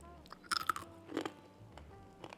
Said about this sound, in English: I'm gonna bite one of these chickpeas so you can hear how nice and crunchy it has become